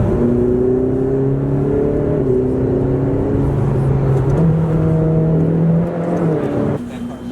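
A Ferrari F8 Spider's engine pulls steadily while driving on mountain roads, its tone rising in stepped gear-by-gear accelerations, loud and close, easing off near the end.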